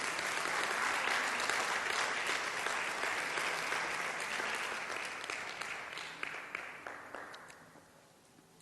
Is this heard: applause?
yes